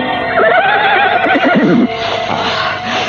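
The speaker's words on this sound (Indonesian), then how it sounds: "Sementara kuda Kalongking nampak pahanya terluka parah akibat dicakar dan digigit oleh harimau itu." A wounded horse whinnies loudly in a radio drama scene, a long shaky neigh rising and falling over about three seconds, close and alone with no talk.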